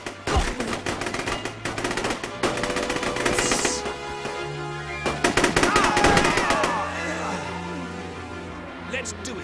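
Gunfire in a D-Day strategy video game battle, rapid machine-gun bursts and rifle shots crackling close, with brief game voices speaking amid the shooting.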